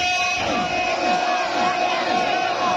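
A large crowd at an outdoor religious conference on the finality of prophethood roars rhythmic slogans in unison through a sound system, repeated surging shouts that are loud and sustained with amplified hum.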